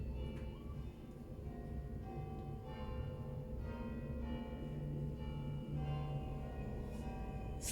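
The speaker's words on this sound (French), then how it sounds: "Et on est accompagné par les cloches." Church bells ring out a tuned melody, several bells chiming in sequence at moderate distance over a steady low outdoor hum, with no voices.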